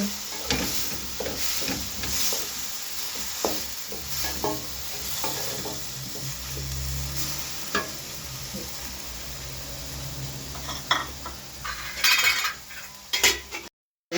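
Chopped tomato being stirred into a hot pan for chicken roast spaghetti, with a close scraping and stirring of a utensil over a steady sizzle and occasional clinks against the pan.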